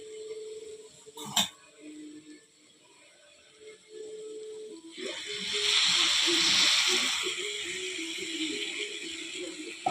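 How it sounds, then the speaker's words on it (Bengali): Milk poured into a pan of frying carrots for carrot halwa, giving a steady sizzling hiss and slosh that swells partway through and stays close and fairly loud, with faint clinks before it. "দুধটা দিয়ে দেব"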